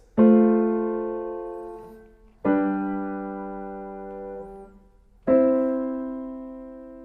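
Three sustained piano-like chords, tonic, dominant and subdominant, struck one after another about every 2.5 seconds, each ringing out and slowly decaying, played alone with no talking.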